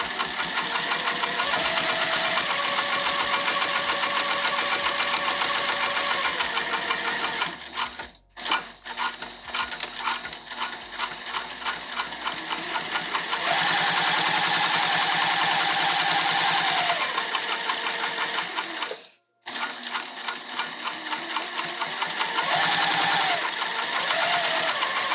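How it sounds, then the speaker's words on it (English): A close sewing machine topstitches a Hendrix bag at a 4 mm stitch length, a loud continuous whirring rattle that pauses briefly twice and then runs on. "let's top stitch. Bring it over to the machine."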